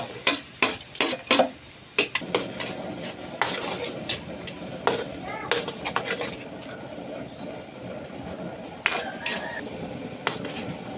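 Garlic, onion and butter sautéing in a pan with mixed seafood: sharp utensil clatters and stirring scrapes over a steady frying sizzle, with a few louder clinks near the start and later.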